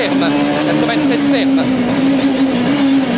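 Onboard a top-spec rally car racing through narrow French village lanes between stone walls and trees at the 1998 Rallye du Limousin, the engine holding a loud, steady droning note with slight pitch wavers, a voice talking over it.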